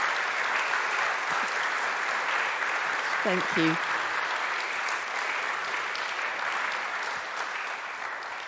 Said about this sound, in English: But shall we give him another round of applause?